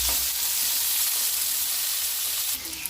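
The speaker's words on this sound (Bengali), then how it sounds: "আমি এখন নুন দেবো না, একটু হালকা ফ্রাই করে নেব" Pasta ingredients fry lightly in a pan, giving a loud, even sizzle and hiss that runs without a break and eases off near the end.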